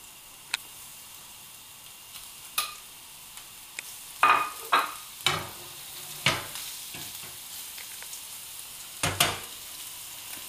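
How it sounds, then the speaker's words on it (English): Food fries quietly in a hot pan, with a faint sizzle under scattered sharp clicks and scrapes from stirring. "So that's frying off."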